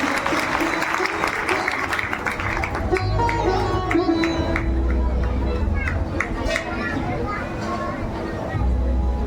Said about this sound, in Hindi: ताली जोर से बजाइए